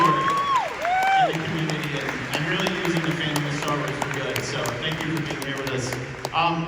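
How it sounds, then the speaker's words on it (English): Audience applause at a fan expo panel: a dense wash of clapping fills the room, with a voice speaking over it and tones sliding at the start. "Give these guys a round of applause"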